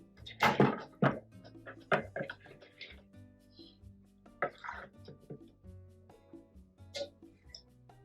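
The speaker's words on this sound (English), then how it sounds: "Now that I've got my whole concentrate mixture pouring in the bowl" Cold brew coffee concentrate drains through a reusable filter set in a cup inside a bowl, making a series of close, irregular drips and splashes with quiet gaps between them.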